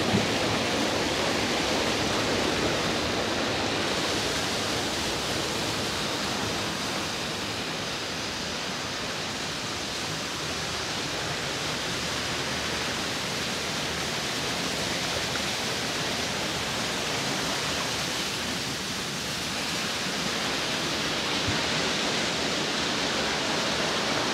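Waterfall on the Ilog Panday river in Bailen, Cavite, spilling into a shallow pool: a steady, dense rush of falling water that stays loud and even throughout, with no voices.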